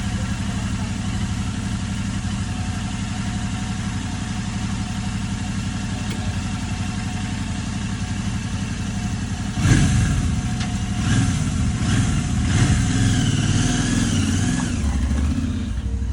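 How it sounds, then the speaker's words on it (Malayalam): A motorcycle engine runs steadily at idle, a close, continuous low throb, then picks up with a few revs and stronger rumbling in the latter part. "ഞാൻ വീണ്ടും ബൈക്കിലേക്ക് കയറുന്നു"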